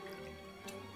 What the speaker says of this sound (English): I'll pour a little bit in here.